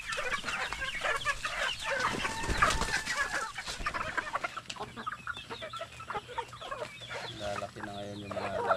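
Pet chickens clucking busily while being fed in the morning, many birds close by in a steady chatter, with a brief faint voice in the background.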